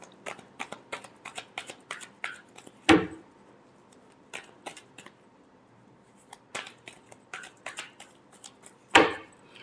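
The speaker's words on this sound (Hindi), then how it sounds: "Last shuffle." A deck of tarot cards is shuffled by hand in quick bursts of crisp flicking riffles, with two louder sharp snaps of the deck, close and clear in an otherwise quiet room.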